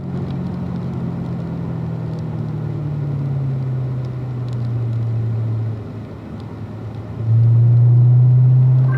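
A race car driving through a corner on a track: a steady engine drone from inside the car that eases off, then swells louder as it powers out of the corner.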